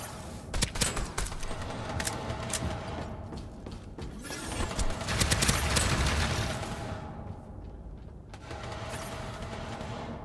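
Heavy fire support gunfire in the game Starsiege Deadzone, a dense, loud barrage of rapid shots and crashing impacts that swells midway, then thins to scattered bursts near the end.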